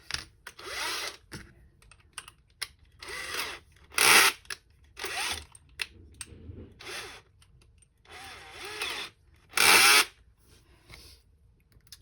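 A power drill drives screws to fix a bearing in place, with short bursts of high-pitched whirring separated by pauses, a few longer runs and some quieter handling noises between.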